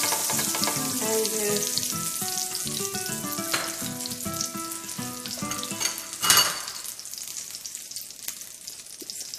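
Shredded onions, chopped in a food processor, fry in a pan for chicken tikka masala, giving a steady close sizzle with occasional stirring bursts beneath continuous background music.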